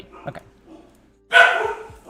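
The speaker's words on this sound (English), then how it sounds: "The dogs are going crazy." Several dogs bark in a sudden loud burst of overlapping barks after a brief spoken word and a quiet stretch.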